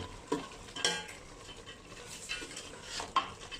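A Thai chicken herb soup with kaffir lime leaves, fresh peppercorns, spring onion and sawtooth coriander is stirred in a pot, utensil scrapes and knocks coming in a few irregular strokes over a soft bubbling background, close and moderately quiet.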